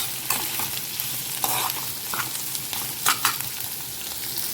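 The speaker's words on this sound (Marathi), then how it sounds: "कांदा मस्त व्यवस्थित खरपूस तळून घेऊ" Onions fry and sizzle in a pan while a utensil stirs them, giving a steady close hiss broken by irregular scraping strokes, with no voices.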